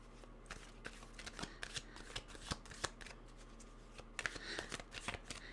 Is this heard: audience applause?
no